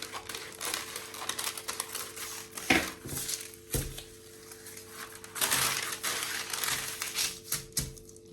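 Pie dough for an eastern-style pie being trimmed around the edges, with crisp scraping, crinkling and tapping clatter as the edges are cut away, close and moderately loud, alone without talk.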